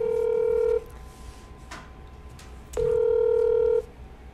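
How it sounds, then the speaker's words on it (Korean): Telephone tones from a call to Hyoja-dong No. 1, heard as two long, steady electronic beeps of equal pitch separated by a quiet gap of about two seconds, clear and alone with no talking. "효자동 1번지 전화 한번 해봅니다"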